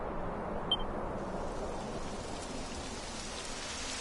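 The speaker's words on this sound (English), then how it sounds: "It would have to go and start raining, wouldn't it?" Rain falls steadily in the video game Dragon Quest XI, a dense, even hiss of droplets with a faint electronic blip near the start and no speech.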